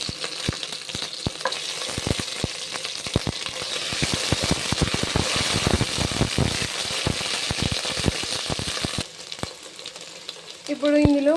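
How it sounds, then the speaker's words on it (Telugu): Onions frying in a pan until golden for a chicken gravy curry, a dense continuous sizzle with many crisp crackling pops, loud and close, with no talking. "మంచిగా గోల్డెన్ కలర్ వచ్చేంత వరకు ఫ్రై చేసుకోవాలి."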